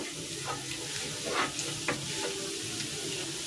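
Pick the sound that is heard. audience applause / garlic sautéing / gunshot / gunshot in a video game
garlic sautéing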